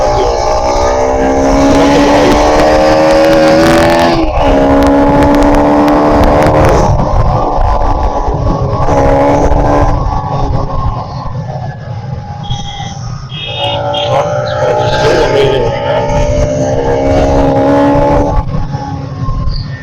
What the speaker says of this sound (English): The bike is just going like a rocket